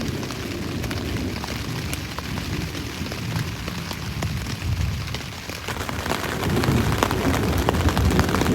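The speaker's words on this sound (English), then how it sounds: "it's just sprinkling a little bit now" Light rain sprinkling steadily on a solo canoe trip at Cliff Lake in Temagami, a soft, even patter of drops with faint crackles, continuous and without speech.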